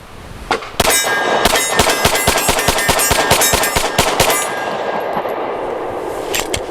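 A Stoeger STR-9C compact 9mm pistol fires a rapid string of sharp, loud shots in quick succession, each crack ringing with metallic clang, then a quieter pause with a couple of trailing clicks.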